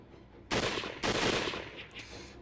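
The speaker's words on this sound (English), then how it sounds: "preceding a round of hurried gunshots" Two loud, sharp gunshot bursts in a video game ring out close together, each trailing into a noisy echo, followed by a fainter crack.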